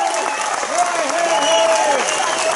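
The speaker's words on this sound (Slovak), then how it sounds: "Veľký potlesk." Crowd applause at a folk music event featuring accordion players, steady dense clapping under a voice speaking loudly over it throughout.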